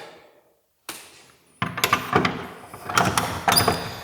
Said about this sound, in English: the door doesn't open. The key doesn't seem to work.